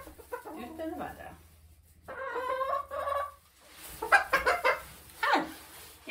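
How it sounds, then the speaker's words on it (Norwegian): An adult Jærhøns rooster, a Norwegian egg-laying breed, makes loud close vocal calls in a henyard, in several bursts with short gaps between them. "Dette er en hane, en voksen hane"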